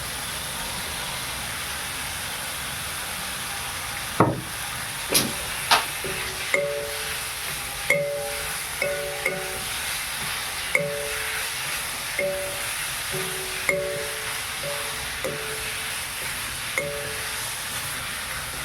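Boiled cauliflower, carrot and potato are stirred in a pan for a vegetable dish, giving a steady run of about a dozen close, evenly spaced scraping clinks over a soft cooking hiss.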